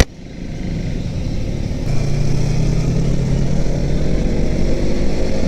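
A motorcycle engine runs steadily while being ridden, a continuous loud drone with road and wind noise that rises slightly and holds level, with no voices heard.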